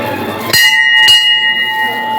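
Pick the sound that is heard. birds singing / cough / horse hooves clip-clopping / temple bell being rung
temple bell being rung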